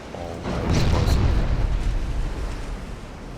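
Naval gunfire in the warship game Ultimate Admiral: Dreadnoughts, a heavy muffled boom that rolls out into a long rumbling decay, with someone talking underneath.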